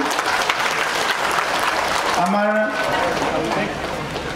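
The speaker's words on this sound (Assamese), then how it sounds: "হাত চাপৰি দিব লাগে এবাৰ ডাঙৰকৈ।" An audience at a cancer hospital event claps steadily and loudly throughout, with overlapping voices and a brief tonal sound midway.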